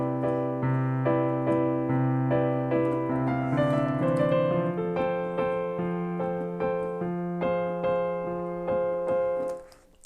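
Piano lick from a song, played a little faster, with steady repeated chords and a melodic line ringing out clearly before stopping.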